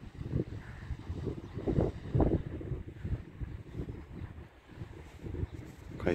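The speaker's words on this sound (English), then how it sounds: "Windy, no, a little bit of wind." Gusty February wind at Criccieth in Wales buffets the microphone with a low, rumbling roar that rises and falls in several strong surges throughout.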